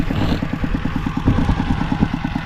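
A motorcycle engine putters close by with a steady, rapid rhythmic beat on a rural Lao road, holding at an even loudness for a couple of seconds.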